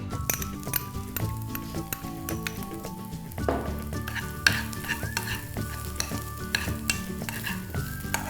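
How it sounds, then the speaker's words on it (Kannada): Ingredients for pepper rasam roast in a pan until brown while a spoon scrapes and stirs repeatedly, with occasional metallic clinks against the pan. "ಕಂದು ಬಣ್ಣ ಬರೋವರೆಗೂ ಇದನ್ನ ಹುರ್ಕೊಳ್ತೀನಿ"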